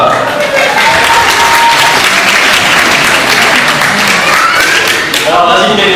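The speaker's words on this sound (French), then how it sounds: "Je vous demanderai un tonnerre d'applaudissements pour Pénélope." Loud, dense applause fills a magic show audience for the full six seconds, with cheers and voices mixed into the steady clapping.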